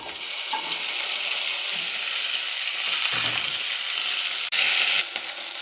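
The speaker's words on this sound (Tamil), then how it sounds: "இப்போது வெண்டைக்காய் ஃப்ரை ஆகிட்டுருக்கு" Okra sizzles steadily as it fries in a pan, a loud, continuous crackle close up, with occasional stirring clinks and scrapes.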